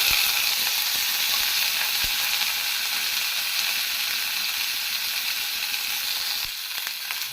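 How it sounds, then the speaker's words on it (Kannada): Onions fry in hot oil with spices, a loud, dense, continuous sizzle that eases slightly in the final second. "ಈರುಳ್ಳಿ ಹಾಕಿದ ಮೇಲೆ ಸ್ವಲ್ಪ ಈ ರೀತಿ ಫ್ರೈ ಮಾಡ್ಕೋಬೇಕು ನೋಡಿ"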